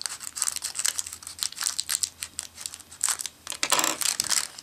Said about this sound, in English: let's cut this bag open here